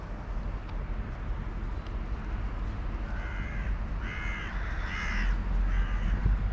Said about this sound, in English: that call out from the birds was because of the kitty cat